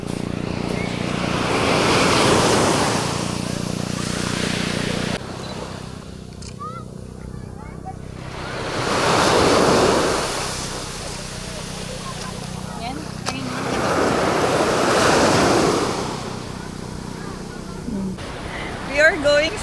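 Ocean surf on a Zambales beach swells and breaks in three separate surges, each wave rushing in loudly and then receding, with wind buffeting the microphone and people talking between the breakers.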